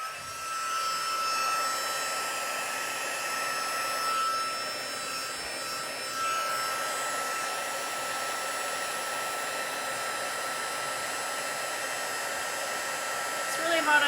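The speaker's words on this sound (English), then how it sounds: "Heat tool." An embossing heat tool blows hot air over a Stampin' Up! card project in a steady, close whooshing drone lasting the whole stretch, swelling slightly at moments and ending with a brief handling bump, no talking over it.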